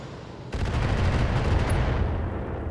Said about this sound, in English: Missile barrages aren't doing too good from a distance.